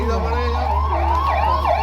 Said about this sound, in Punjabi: ਲਓ ਜੀ ਹੁਣ ਐਂਬੂਲੈਂਸ ਆਈ ਆ